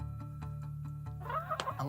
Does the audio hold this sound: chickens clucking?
yes